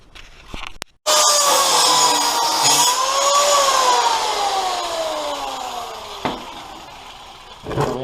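A power tool's cutting disc slices through a vehicle running board, a loud, steady grinding whine that starts abruptly after a moment of quiet and holds for several seconds, its pitch slowly sagging as the cut goes on.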